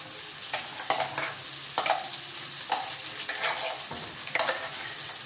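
A paste of tomato, green chili, garlic, onion, cumin and fenugreek fries in a pan for mirchi masala curry, a constant close sizzle broken by several sharp scraping stirs of a spoon.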